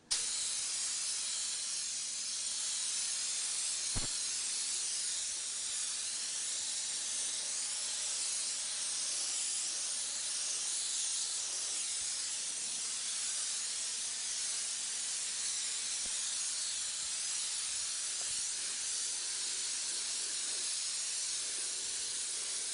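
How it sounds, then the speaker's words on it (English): A paint spray gun sprays a continuous broad hiss steadily for over twenty seconds, with a faint click early on and no talking. "Check my spray pattern again."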